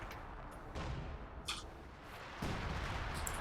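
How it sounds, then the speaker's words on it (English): Artillery firing in the World War II strategy game Company of Heroes 2, heard as a few muffled, distant booms and rumbling blasts over a steady low background, with no talking. "So the artillery is firing up again, hoping to get some hits on some squads."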